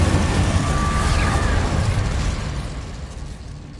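The Incendio fire spell in Hogwarts Legacy erupts as a loud, broad whooshing burst of flame that roars for a couple of seconds and then fades, with no talking over it.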